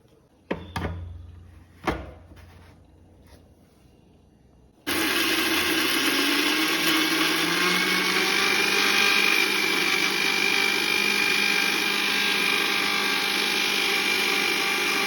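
After a few knocks and clicks, an electric mixer grinder starts abruptly and runs loud and steady, grinding ingredients for a spinach and jackfruit seed thoran with a continuous whirring roar that holds to the end.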